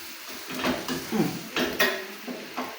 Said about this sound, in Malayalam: കുറച്ച് ഇത് നന്നായി ഒന്ന് ഇളക്കാം.